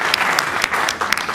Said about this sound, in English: Let's have another huge round of applause to the players